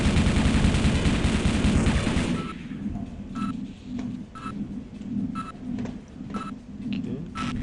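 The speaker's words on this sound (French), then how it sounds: "Ok, ça tire, je sais pas où." Gunfire in the video game Half-Life: a dense burst of shots at first, then sparse, spaced single reports with short bright cracks over a steady low background rumble.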